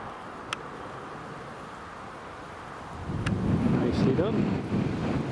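Gusty crosswind buffets an outdoor microphone at an airport planespotting spot, a steady low rumble that swells louder and rougher partway through, with no voices.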